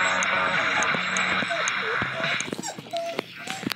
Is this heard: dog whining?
yes